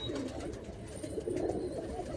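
Andhra high-flying pigeons coo in a loft, soft low throaty cooing heard close and continuous for a couple of seconds, with no talk.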